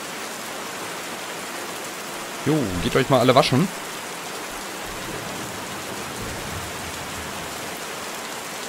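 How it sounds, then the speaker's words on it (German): Loud, steady heavy rain in the video game Life Is Hard hisses throughout as a dense wash of noise, with a person briefly speaking over it partway through. "Alter, jetzt ist wieder dieser mega laute Regen."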